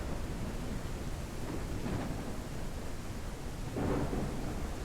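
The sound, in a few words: thunderstorm with rain in video game Ranch Simulator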